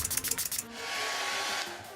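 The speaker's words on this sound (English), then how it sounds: "I usually hit it with the blow dryer just to help it dry really quick" A blow dryer switches on after some short handling bumps and blows a steady, close whoosh of air for drying setting spray on a face.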